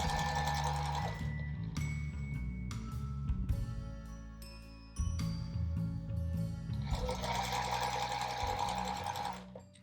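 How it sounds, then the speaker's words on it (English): A sewing machine stitching squares of a scrappy quilt block runs steadily with a fast mechanical whir and rhythmic needle chatter, close and continuous, briefly pausing and surging again midway. "we're sewing on the last square in each row, and then we'll be able to bring this block together"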